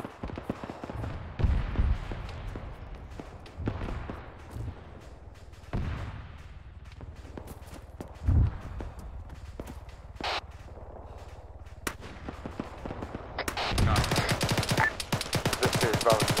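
In Arma 3, gunfire is aimed at Ural trucks: scattered heavy shots and booms at varying distances, then a dense crackling fusillade builds toward the end.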